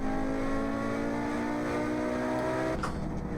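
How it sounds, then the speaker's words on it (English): A Group B rally car on a hillclimb pulls hard in fourth gear at high revs with the turbo spooled, a loud, sustained engine howl with a brief shift in tone near the end. "Keep it in fourth, keep the revs high, keep the turbo spooled."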